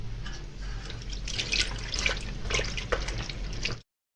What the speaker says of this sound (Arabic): اول ما بطلعها من الميه السخنه على طول بنزل بيها في الميه الساقعه